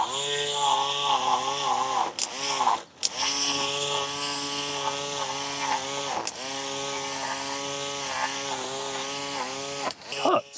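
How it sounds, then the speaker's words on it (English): A cheap string trimmer whirs steadily through fresh grass with a buzzing, harmonic-rich motor tone, briefly stopping and restarting partway through and dipping in pitch as it bogs down in the deeper growth. "It does actually string trim, but as soon as you get a little bit deeper into that grass, maybe anything more than an inch, it just bogs down"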